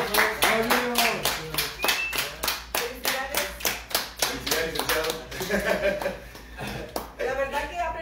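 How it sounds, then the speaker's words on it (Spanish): A small audience at a communication workshop diploma ceremony claps in loose, uneven bursts, close and fairly loud, while a voice talks over the clapping and some light chuckling is heard. "¡Aplausos, por favor! ¡Aplausos! ¡Aplausos!"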